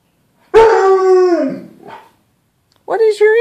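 A dog howls at what it takes for another dog in a mirror: a long, loud, wavering howl that trails off, then after a pause a second, shorter howl with a few yips.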